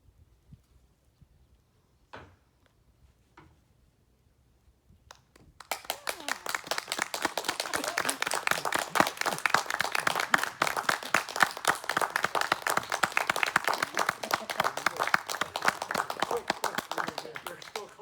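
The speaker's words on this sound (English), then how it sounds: "They're still clapping." An audience bursts into sustained, dense clapping after a few isolated claps and faint voices at a small talk on George Orwell; the applause starts abruptly and stays loud and steady to the end.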